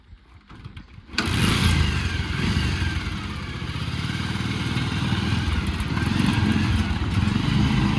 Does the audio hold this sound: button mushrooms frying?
no